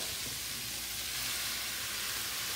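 Beef strips hitting a hot pan for a quick stir fry: a loud, steady, close sizzle and hiss that fills the whole moment without letting up.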